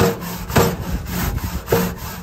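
A Char-Broil nylon-bristle brush scrubbing a cold BBQ grill grate, giving a few loud, close back-and-forth scraping strokes with a rough, woody rasp.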